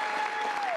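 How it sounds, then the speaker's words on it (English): A crowd of immigration advocates applauds: a steady, dense patter of many hands clapping at moderate distance, continuous through the moment with a faint tone lingering beneath. "Immigration advocates are cheering President Biden's new policy."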